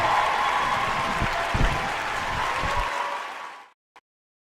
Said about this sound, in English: I'm gonna give him a round of applause for that as well.